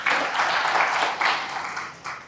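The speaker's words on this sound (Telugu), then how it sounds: "చప్పట్లు కొట్టుకోవచ్చు పర్వాలేదు" Audience clapping at a Telugu religious discourse on the Padma Purana, a dense, steady round of applause from a seated crowd, sustained throughout with slight swells and no talk over it.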